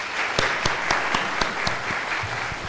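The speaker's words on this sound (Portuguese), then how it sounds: "Uma salva de palmas, por favor." Audience at a conference opening session claps after a presentation, a brief burst of applause with individual hand claps standing out, moderately close.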